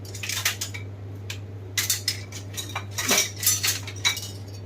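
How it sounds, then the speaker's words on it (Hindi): Metal cutlery and kitchen pots clink and clatter in a home kitchen during cooking, in irregular bursts of sharp knocks and rattles at close range, with a steady low hum underneath and no talking. "अरे यार क्या बर्तन डाली हूँ वहाँ।"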